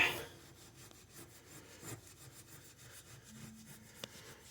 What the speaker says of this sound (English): Just cleaning up the end of this. This is grade 0 steel wool.